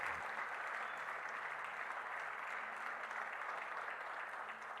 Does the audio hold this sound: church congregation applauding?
yes